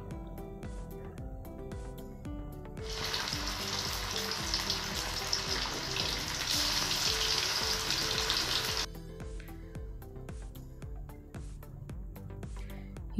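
Kizhanga fish pakoda pieces drop into hot oil to deep fry, setting off a loud, hissing sizzle that surges for several seconds over background music, then settles back down.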